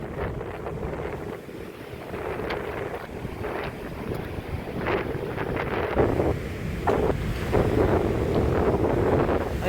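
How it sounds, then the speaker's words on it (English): Strong coastal wind at West Aberthaw, South Wales, buffets the microphone continuously with a low roar, gusts rising and falling, while waves wash faintly in the background. "As you can see, it's very windy and rough."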